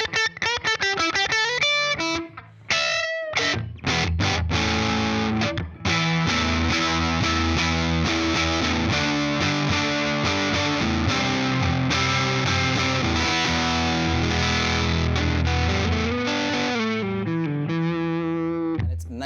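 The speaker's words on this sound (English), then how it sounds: "you can get just that straight up distortion, nice, transparent, not tonally changing anything" Electric guitar through a standalone distortion pedal with clipping diodes, played loud and alone: picked notes ring out, then thick sustained chords with brief pauses and a final ringing strum.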